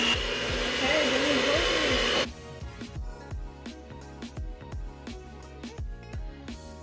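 An electric mixer whirs loudly through tres leches cupcake batter for about two seconds, then cuts off, leaving quieter tapping and clinking sounds with background music.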